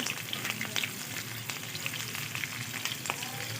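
Slit green chillies sizzle in oil in a frying pan while cooking a pabda fish mustard curry, a steady close crackle with scattered sharp pops running throughout, no voices.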